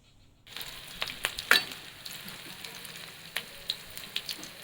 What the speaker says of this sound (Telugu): ఆయిల్ వేసి వేడెక్కిన తర్వాత ఉల్లిపాయలు వేసుకున్నాము.